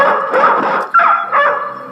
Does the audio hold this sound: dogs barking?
yes